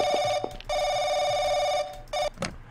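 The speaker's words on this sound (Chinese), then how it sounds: "好了好了好了，我赶快去接电话" An old-style telephone bell rings in the horror RPG Paranoiac, loud and close, in two long ringing bursts followed by a short one, with brief gaps between them.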